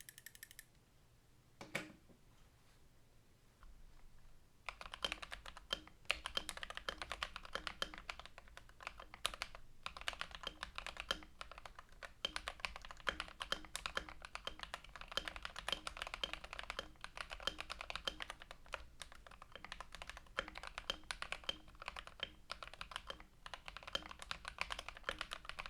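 Mechanical keyboard fitted with Akko Rose Red switches being typed on steadily, a dense run of close clacking keystrokes following a few seconds of near silence and a single early tap.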